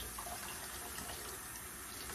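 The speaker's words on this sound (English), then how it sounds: "I'm going to run some water while I do this." Hot water runs from a home faucet into a sink, a steady, even rushing stream that continues unbroken and fairly close, with no voices.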